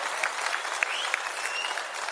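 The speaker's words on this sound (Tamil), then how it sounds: "அவருக்கு உங்களின் பலத்த கைத்தட்டலை வழங்குமாறு அன்போடு கேட்டுக்கொள்கிறோம்" A crowd gives sustained, steady applause for a prize winner at a student gathering where cash prizes are handed out, with dense clapping and a few sharper individual claps standing out.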